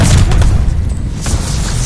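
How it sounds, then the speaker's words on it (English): Heavy mortar shells burst in a Call of Duty: Vanguard multiplayer match, a dense run of deep, booming explosions and crackling gunfire rolling continuously at loud, close range. "Sending mortar shells!"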